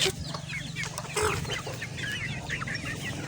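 Chickens clucking in a Visayan farmyard, several close, scratchy clucks and short calls in quick irregular succession over a low steady hum.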